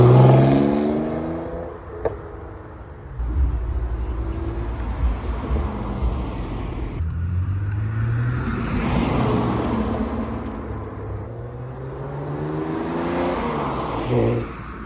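BMW E92 328i inline-six engine and exhaust while driving, heard from inside as repeated accelerations with rising tones and gear changes, fairly close with road noise between pulls.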